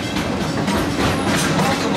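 The Wildlife Express train at Disney's Animal Kingdom rolls along with a loud, steady, broadband rumble and rattle that fills the whole stretch without pause.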